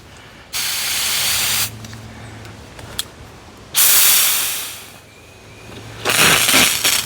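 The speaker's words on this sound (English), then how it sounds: "a couple seconds to let the water pressure through and the air out" Water sprays from a nozzle on a 5/8-inch retractable garden hose reel in three loud hissing bursts separated by quieter pauses, with a faint low hum underneath.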